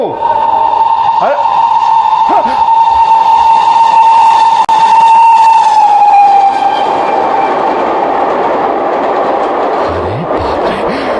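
A train rumbles past close by, loud and continuous, with a long whistle tone sustained over the clatter of the wagons before it slowly fades.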